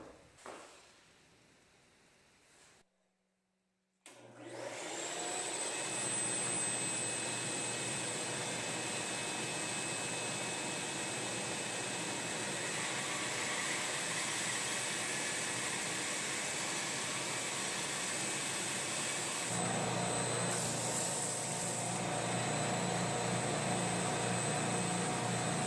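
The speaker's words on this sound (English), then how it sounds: "So when I make this cut, I'm going to be cutting right on the line." A table saw cutting wood at an angle starts up after a short quiet spell and runs as a loud, steady whining roar for about twenty seconds, its tone shifting slightly as the blade works through the board.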